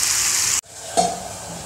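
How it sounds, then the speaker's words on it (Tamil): Sizzling and bubbling in a hot pot of kuzhambu cuts out briefly, then a fresh surge of sizzle starts as water is added and settles into a steady hiss. "குழம்புக்கு தேவையான அளவுக்கு தண்ணி ஊற்றியாச்சு"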